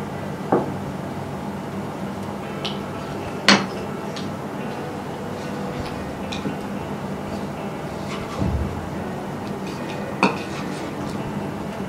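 Sweet aval (flattened rice) is stirred in a pan, giving a few sparse, close clinks and knocks of a utensil against the pan over a soft, steady background hiss.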